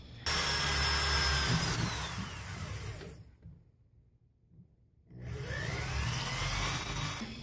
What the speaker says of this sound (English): Now I can drill a hole in the side of the mount